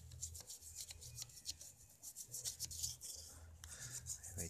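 A brush scrubs foam into a mud-caked engine. The rhythmic bristle rubbing is quick, close and soft, working into the corners, with no voices.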